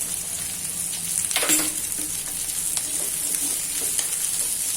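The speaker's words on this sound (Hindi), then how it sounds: "कैप्सिकम थोड़ा ठहर के डालेंगे, पहले इनको फ्राई होने देंगे।" Carrots and beans frying in a pan in a home kitchen, a constant close sizzle with a brief louder crackle and a few light stirring taps, no voices.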